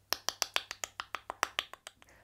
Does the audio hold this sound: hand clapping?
yes